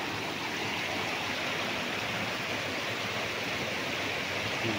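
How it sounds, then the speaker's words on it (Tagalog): Water from a spring-fed stream flows in an even, unbroken rushing hiss at a resort property in Liliw, Laguna, steady and close with no talking. "doon po papunta ang agos ng tubig"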